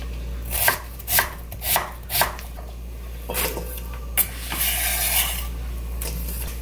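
A knife thinly slices about 300 g of radish on a cutting board for apple water kimchi, with five crisp, evenly spaced chops followed by a few softer strokes and light clatter, no talk.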